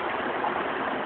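A small woodland brook spills over a little waterfall, a brief steady rushing and gurgling wash of water with no voices.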